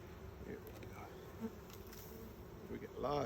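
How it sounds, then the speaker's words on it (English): Honey bees buzz steadily around a strong hive, a dense continuous drone of many wings close by, briefly rising near the end as a swarm is shaken off a frame. "We get lots of bees here."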